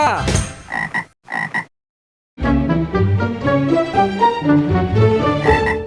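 Frogs croak in a dense, continuous chorus of overlapping calls after a few short bursts and a brief silence, loud and close throughout.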